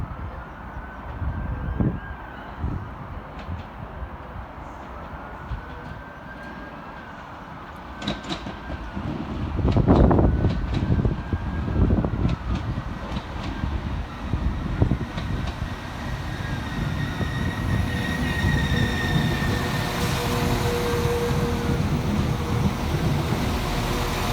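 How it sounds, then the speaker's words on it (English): Transport for Wales unit 197116 pulls into Stockport station, a low rumbling approach with rail clicks and rising mechanical noise that builds and holds steady, plus a few brief squeals along the way. "Next arriving into the station is 197116, working the 1539 Transport for Wales service from Manchester Piccadilly through to Carmarthen."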